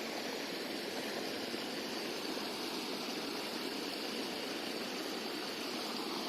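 River water rushes in a steady, even wash of noise that never lets up, with no voices.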